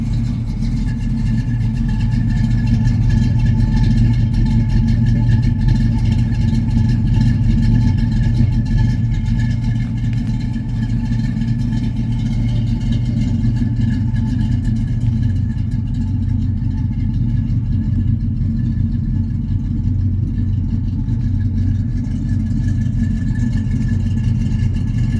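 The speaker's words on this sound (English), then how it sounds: "Exhaust has been done. It's got Flowmasters underneath it." A 1965 Pontiac GTO convertible's 389 engine rumbles steadily with a deep, throaty Flowmaster exhaust note, idling and revving up continuously for the whole stretch, loud and close.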